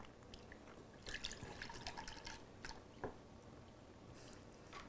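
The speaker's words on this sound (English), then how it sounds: "I'm going to pour a cup of milk and a cup of heavy cream into our pot." Milk and heavy cream are poured into a pot for a berry trifle, soft liquid splashing and dripping with small clinks, faint and close, no talk.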